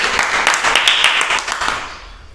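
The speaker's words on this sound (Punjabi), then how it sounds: "ਬਹੁਤ ਵਧੀਆ ਤਾਲੀਆਂ ਮਾਰੋ ਸਾਰੇ ਬੱਚੇ" Children clap together in a classroom, about eight sharp, fairly even claps in quick rhythm, close and loud, then trailing off.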